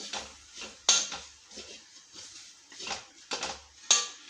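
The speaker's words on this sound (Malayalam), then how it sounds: "കരിയാണ്ട് ഇളക്കണം കേട്ടാ." Chilli and coriander masala stirred into browned shallots in a pan, with a spoon scraping and clinking against the metal in several close, uneven strokes and a few sharper knocks, and no talking.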